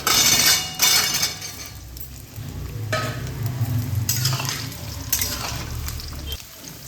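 Whole potatoes fry in hot oil with whole cardamom, cloves and cinnamon, giving a steady sizzle broken by bursts of scraping and stirring in the pan, close up with no talking.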